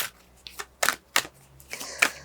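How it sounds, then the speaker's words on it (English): Moonology Manifestation Oracle cards are shuffled in short bursts, several crisp riffles and slaps spaced unevenly over a faint low hum, close and fairly quiet. "Now I am going to shuffle the Moonology Manifestation Oracle card."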